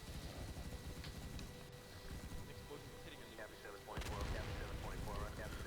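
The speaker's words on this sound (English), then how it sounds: "Another rocket hitting the floor." A rocket blasts into the floor during a multiplayer zombie shooter battle; continuous rumbling gunfire leads into a louder, sharper explosion about two-thirds through that rings on with a crackling tail.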